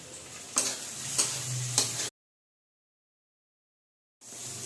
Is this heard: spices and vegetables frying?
yes